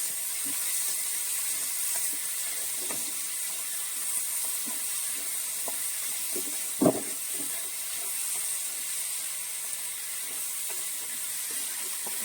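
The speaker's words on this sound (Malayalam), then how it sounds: "ചക്കക്കുരു അരിഞ്ഞ് വെച്ചത് ചേർക്കുവാണ് നമ്മൾ എണ്ണയിൽ നന്നായിട്ടൊന്ന് വഴറ്റുന്നുണ്ട്" Chopped jackfruit seeds sauté in hot oil for a jackfruit seed thoran, giving a steady soft sizzle and hiss throughout, with one brief louder clatter of stirring near the middle.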